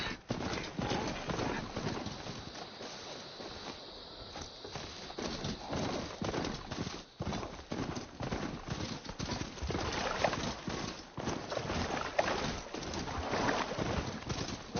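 Ridden mount in Horizon Forbidden West, steady rhythmic hoof-like footfalls over a long stretch at moderate loudness, with ambient bird calls in the background.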